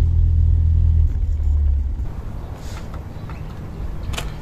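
Turbocharged Nissan 1400 car engine on a dyno, a loud low rumble that drops in pitch and then settles into a lower idle-like drone, with a couple of faint clinks near the end.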